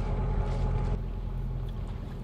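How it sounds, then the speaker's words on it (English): A sailboat's engine and generator run together, making a steady low rumble and hum with some wind noise on the microphone and no talking. "I gotta run the engine and the generator"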